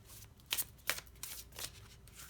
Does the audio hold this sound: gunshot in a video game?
no